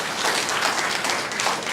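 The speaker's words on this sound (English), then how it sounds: "Let's give our panelists another round of applause." Audience applause for a panel of speakers at a 2018 conference session, a steady dense wash of many hands clapping at once, sustained evenly throughout with no voices over it.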